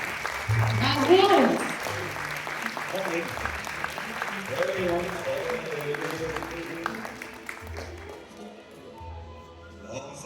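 Audience applause after the first scene of an intergenerational stage show, a dense patter of clapping that continues throughout, with a voice calling out a cheer near the start and some talk underneath.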